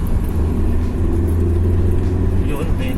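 A 1998 BMW 316 pulls hard in third gear, its engine a steady low rumble and drone that stays loud and close throughout, with cabin noise around it.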